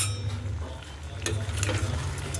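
A spoon scrapes and stirs Kashmiri chili powder mix into a vegetable curry cooking in a pan, with soft sizzling underneath and a few light clinks against the metal.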